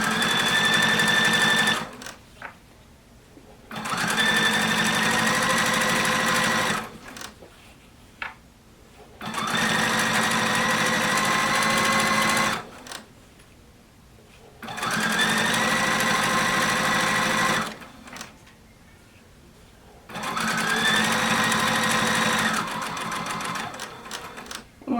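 Sewing machine stitching binding onto a quilt in five distinct runs of rapid mechanical whirring, each lasting a few seconds and separated by short quiet pauses, loud and close with no talk.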